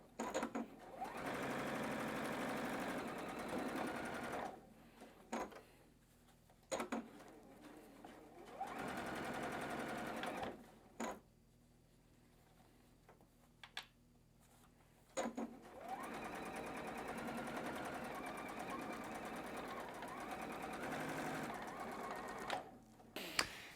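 Sewing machine stitching the final seam of a quilt block in bursts of steady, rapid whirring, pausing between runs and then running long and continuous, close and moderately loud with no talk.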